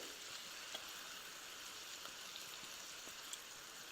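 A large, very thinly sliced onion sizzles in a pan of olive oil and butter, a steady, fine crackling hiss with occasional small pops, heard close and alone.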